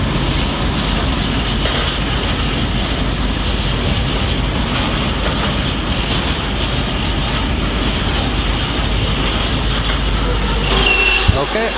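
Class 66 locomotive 66136 in cargo livery hauls a freight from Trafford Park to Southampton past Stafford on the West Coast Main Line. It makes a loud, continuous rumble with rhythmic wheel clatter that lasts throughout, swelling slightly near the end.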